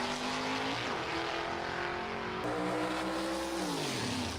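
A tuned 409 V8 engine in a 1961 Chevrolet Impala idles and revs nearby at a gasser drag race, its deep throaty rumble rising and falling steadily, with no voices.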